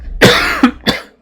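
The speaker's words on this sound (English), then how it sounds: "Getting a little bit of coughs." A person coughs three times in a row, up close and fairly loud, with a rough, throat-clearing quality and short pauses between bursts.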